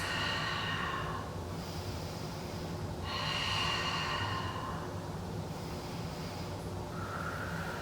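Slow, deep breathing during a vinyasa flow yoga pose: two long, airy breath cycles, close and steady, with no talking.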